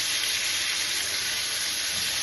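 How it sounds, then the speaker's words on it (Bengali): Ridge gourd frying in a pan as a steady, dense sizzle that holds even and close throughout, with no voices over it. "এইভাবেই ঝিঙাটাকে ভাজবো।"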